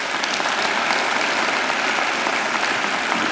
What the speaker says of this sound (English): I think Tony deserves another great round of applause.